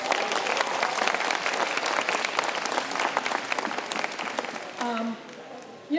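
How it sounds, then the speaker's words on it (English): A crowd applauds loudly and steadily for several seconds, then the clapping thins out as a voice briefly comes in near the end. "let's give Harry a big warm applause"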